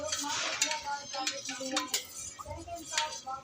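Chicken being stirred together with masala in a bowl, giving soft scraping and clinking of a utensil against the dish in an irregular rhythm, close and moderately quiet.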